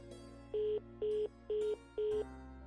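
A phone rings four times in short, evenly spaced electronic bursts over a low background hum, with no talking.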